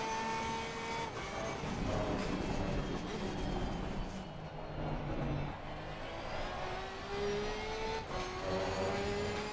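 GT race cars, including a pack of Ferraris, in the racing game Assetto Corsa Competizione, with engines droning and revving through gear changes and rising and falling pitch, steady and fairly quiet throughout.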